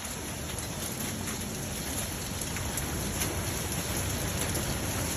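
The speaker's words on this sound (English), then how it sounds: "Hail's coming down. Here goes the hail." Hail comes down hard and steady in a storm, a dense, continuous clatter and patter of ice on surfaces that stays loud throughout with no voices.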